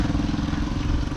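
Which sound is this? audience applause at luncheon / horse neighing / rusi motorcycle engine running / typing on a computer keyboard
rusi motorcycle engine running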